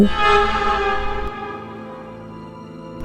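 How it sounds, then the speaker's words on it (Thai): A train starting to pull away slowly, with a sustained tonal horn-like rumble that fades after about a second into a quieter, steady rolling hum. "ในระหว่างที่รถไฟเริ่มเคลื่อนตัวช้า ๆ"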